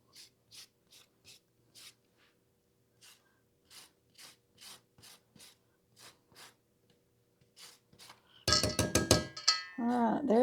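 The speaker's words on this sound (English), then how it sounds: "there's our zest of one lemon" A lemon being zested on a grater for a blueberry lemon cake: short, regular rasping strokes, quiet and close, repeating about twice a second before a voice starts talking over the end.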